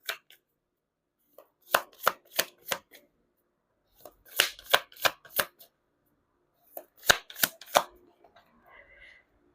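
Tarot cards shuffled by hand in three quick bursts of sharp, close riffling slaps separated by short pauses, with faint movement at the end.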